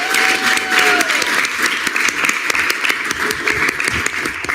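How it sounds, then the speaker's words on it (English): An audience at a student government senate meeting gives a steady, close round of applause for a scholarship winner, the clapping continuous throughout, with a few faint voices mixed in. "So clap for the SBA Scholar for this year again."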